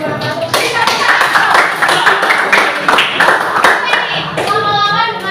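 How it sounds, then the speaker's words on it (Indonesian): A classroom group claps after finishing a presentation, a dense burst of many hands slapping in rapid overlapping rhythm, loud and close, with voices chattering underneath and the clapping sustained for several seconds. "Beri tepuk tangan."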